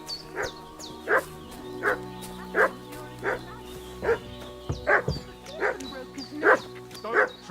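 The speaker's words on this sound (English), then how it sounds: "What's that dog making such a fuss about?" A dog in Kingdom Come Deliverance II barks insistently in a steady series of about ten yelping barks, fairly close, with faint voices and ambient background.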